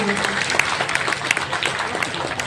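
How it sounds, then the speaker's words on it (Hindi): Audience at a grand felicitation ceremony for Sanskrit education in Aurangabad, Bihar, clapping steadily in a dense, continuous burst of applause with voices mixed in. "एक बार जोरदार तालियां बजाइए इनके सम्मान में सभी लोग"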